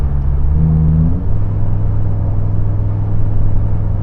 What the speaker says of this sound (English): So this is what happens when I shift into third.